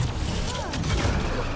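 Dense, rumbling explosions and booms from the video game Mass Effect Andromeda fill the whole stretch, a continuous low roar with scattered bursts and faint background voices.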